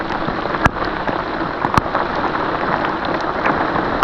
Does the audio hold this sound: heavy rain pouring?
yes